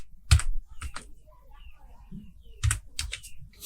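Typing on a computer keyboard while entering text in Adobe Illustrator: a few short clusters of close, crisp key clicks separated by brief pauses, with faint background noise.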